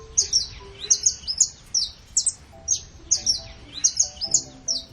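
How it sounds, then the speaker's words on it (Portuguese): A saffron finch (canário da terra, Sicalis flaveola) sings a series of bright, sharp chirping phrases in quick repeated bursts, close and clear against a quiet background. "Dono da vocalização é o canário da terra"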